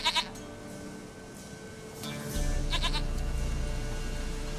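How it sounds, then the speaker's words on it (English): Goat bleating in the video game The Witcher 3, a couple of quick wavering bleats near the start and another pair midway, over a quiet game ambience that thickens into a low drone. "Goat of mine, dearest, sweetest goat."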